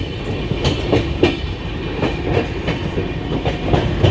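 Poorva Express train running on rails, a steady loud rumble with rhythmic clickety-clack beats from the wheels passing over rail joints.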